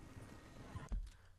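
Horse in Red Dead Redemption 2, a brief faint neigh with hoof thuds, very short and low, no talk.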